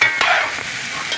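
Oxtail and garlic sizzling in a pot as a utensil scrapes and stirs through it, a loud, close, continuous frying hiss with a few scraping strokes.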